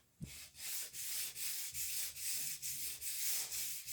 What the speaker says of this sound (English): I just push the block back and forth across the board